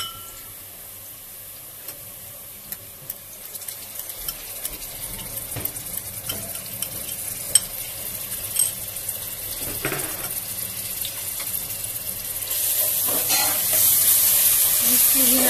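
Cumin and ginger garlic paste sizzle in a frying pan of hot oil, a steady crackling hiss with light stirring clinks that grows louder toward the end.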